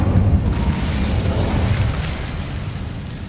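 An Incendio fire spell blasts loudly in Hogwarts Legacy, a sustained roaring whoosh of flame with rumbling low-end boom that fades gradually, without any voices.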